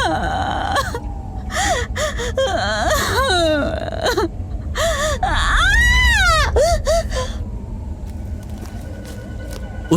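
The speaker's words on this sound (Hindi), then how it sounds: "सिसकने की आवाज बढ़ने लगी।" Close, shaky sobbing and whimpering from a woman, with gasping breaths and rising wails over a low rumbling background.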